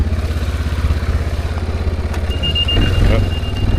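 A Linhai 550 quad bike crawls off-road in low second gear, its engine a steady, near, rumbling drone that rises slightly toward the end, while voices talk over it.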